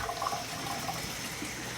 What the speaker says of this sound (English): adding water to the 125